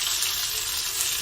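Fish fries in hot oil in a pan for a crunchy fish fry, a loud, steady, close sizzle that does not pause.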